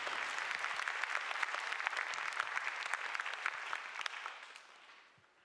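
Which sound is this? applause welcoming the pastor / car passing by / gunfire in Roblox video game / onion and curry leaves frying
applause welcoming the pastor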